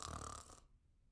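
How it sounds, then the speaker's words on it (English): A single snore from a sleeping dinosaur, a loud rasping breath that cuts off after about half a second and leaves quiet behind. "Hear him snore."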